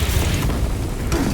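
A melter charge clamps onto a fortress wall in Space Marine 2, heard as a dense, loud mechanical clatter with creaks and heavy low rumbling, no voices over it.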